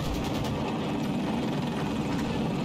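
A helicopter in the video game Battlefield 2042 gives off a constant, even drone of rotor and engine noise for the whole moment, with no voices over it.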